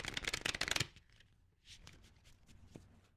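Tarot cards shuffled by hand in a quick riffle burst of crisp flutters, followed by softer scattered card taps and slides, close and quiet with no talking.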